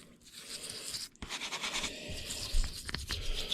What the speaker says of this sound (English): And I just use a toothbrush and 2-stroke oil.